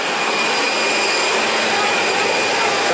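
A Vietjet airliner's jet engine roars at an airport, a loud, steady broadband whine and rush with a thin high tone, heard up close and alone.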